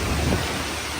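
Heavy wind-driven rain from Cyclone Montha in Vizag, a dense, loud roaring wash of downpour and gusting air with no break, lasting only a moment with no voices.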